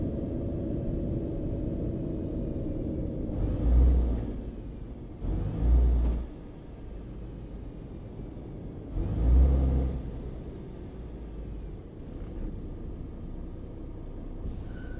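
A truck engine in Euro Truck Simulator 2 that will not take throttle despite recent maintenance drones in a low, steady rumble. Several brief swells rise and fall back without building up, with no talking.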